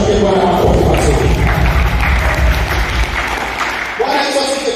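A church congregation claps loudly and continuously, a dense burst of hands with some thumps, while a voice is heard over it.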